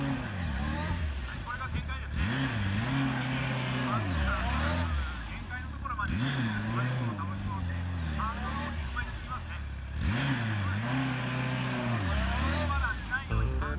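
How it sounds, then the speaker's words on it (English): An engine revs up and drops back in three repeating surges, rising and falling in pitch as the vehicle works through tight turns, steady and moderately close. "Try to listen to the engine sound."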